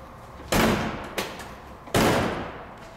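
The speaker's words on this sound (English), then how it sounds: "So let's get this door closed." The door of a 1950 Buick Super Dynaflow convertible shuts with a heavy slam, then a lighter knock, then a second loud slam.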